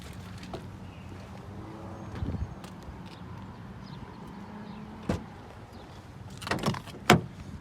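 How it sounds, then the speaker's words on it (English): A door opens on a Quicksand 2019 Toyota Tacoma TRD Sport 4x4 V6 pickup, giving a few sharp clunks and latch clicks over a steady outdoor hum, with the loudest thump near the end. "I'll open the door."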